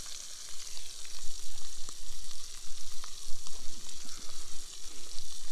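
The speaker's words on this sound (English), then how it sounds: "gently frying a couple of slices of halloumi" Slices of halloumi fry gently in a pan at a wild camp on an abandoned farm, giving a steady, close crackling sizzle with small pops throughout.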